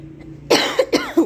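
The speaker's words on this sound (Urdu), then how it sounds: "کھانسی ہو رہی ہے۔" A person coughs several times in quick succession, short close bursts with small gaps between them, heard on their own with no talk.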